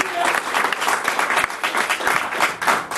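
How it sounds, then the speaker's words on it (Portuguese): A church congregation at a pastors' consecration service claps loudly and continuously, a dense, lively patter of many hands lasting about three seconds, with some voices mixed in. "Você pode dar uma salva de palmas para isso em nome de Jesus."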